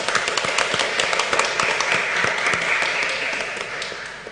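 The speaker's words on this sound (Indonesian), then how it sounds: "marilah kita beri tepuk tangan untuk kedua mempelai yang telah diresmikan" Guests at a wedding ceremony clap for the newly married couple, a lively, sustained round of many hands with sharp individual claps standing out, close and fairly loud, slowly easing near the end.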